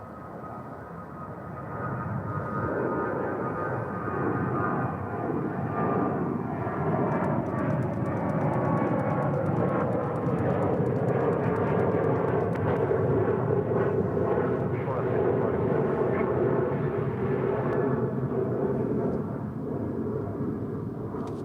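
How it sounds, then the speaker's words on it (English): An American Airlines Boeing 737-800 jet departing Dallas/Fort Worth airport, a sustained loud roar of engines rising after a quieter start and holding steady with a rumbling, shifting tone as the plane climbs away. "Next departure, American Airlines flight 2659 heading to Santa Ana,"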